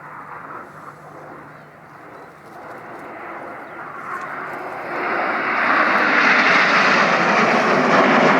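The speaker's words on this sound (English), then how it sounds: "From our right hand side, this is Concorde." Concorde jet airliner flying past at a military airshow, a broad continuous engine roar that builds steadily louder as it approaches over about eight seconds, with no voices over it.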